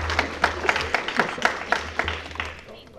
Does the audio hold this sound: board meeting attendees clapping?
yes